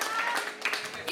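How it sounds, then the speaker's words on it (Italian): Audience applause in a dance hall during an orchestra evening at Le Acacie in Vercelli, a short burst of clapping from a crowd, fairly steady and mid-distance with a couple of sharper claps. "fate ancora un applauso alla cucina delle Acacia che è strepitosa"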